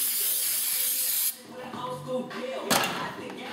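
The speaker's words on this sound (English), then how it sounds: "you always want to use brake cleaner" Brake cleaner sprays from an aerosol can onto an alternator in a loud, steady hiss for about a second, then cuts off, followed by quieter handling noises and a short sharp burst near the end.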